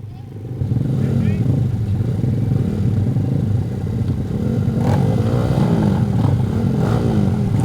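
Race motorcycles sit on the starting grid with engines revving hard in a dense, sustained roar, one rising rev sweep standing out.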